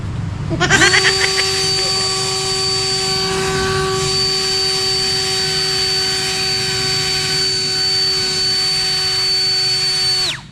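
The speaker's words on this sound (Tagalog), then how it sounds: "ang gamit natin blower galing kay Shopee" An electric blower from Shopee, used to clean a Yamaha Mio Fazzio 125 scooter, spins up with a whine and runs as a steady, loud, high-pitched whirring drone for about ten seconds before cutting off.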